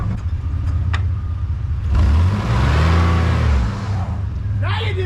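A 90's pickup truck engine roars up in a loud rising rev during a two-wheel peel-out, holding for a couple of seconds before dropping off, with a whine at the end.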